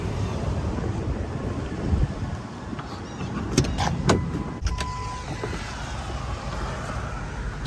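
Truck cabin ambience, with a steady broadband rumble of engine and wind noise and a few brief mechanical clicks and a whirring power window midway, no talking.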